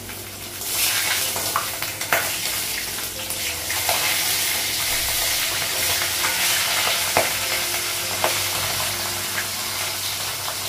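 Fish pieces coated in fish spices sizzle steadily in a hot pan on a gas stove, with scraping stirs and sharp clicks from a utensil breaking through the constant frying hiss. Nobody speaks.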